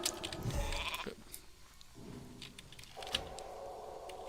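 A sheep bleat from a polymorph spell in World of Warcraft's Warsong battleground: a short bleat sounds early amid game effects, followed by quieter background game noise and a small click later.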